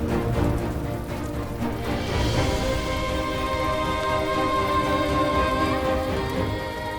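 Steady rain falls throughout, a dense even patter heard from beneath a shelter while waiting outdoors, with no talk.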